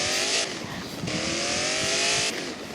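A car drifting in a driving video game, with loud sustained tire squeals in several bursts over a steady engine drone, close and without talk.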